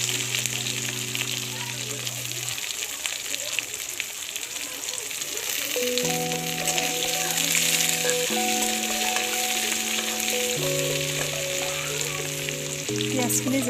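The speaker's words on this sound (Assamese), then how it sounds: "তাৰপাছত এতিয়া ইয়াত মই পিঁয়াজ ঢালিম।" Onions going into hot oil already seasoned with panch phoron, whole cumin, dried chillies and spices give a steady, close sizzle of frying that runs throughout, with music playing in the background.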